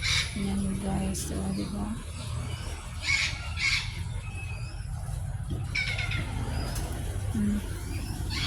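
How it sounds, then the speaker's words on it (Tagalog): Birds call among flowering plants outdoors, with scattered chirps and low coos repeating at moderate distance while someone talks quietly over them. "May mga ibon pa dito."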